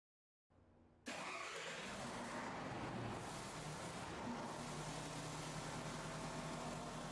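A diesel generator engine, run through a speed controller, cranks and catches after half a second of silence, then settles into a loud, steady running drone that holds to the end.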